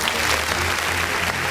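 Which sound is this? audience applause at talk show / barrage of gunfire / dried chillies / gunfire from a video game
audience applause at talk show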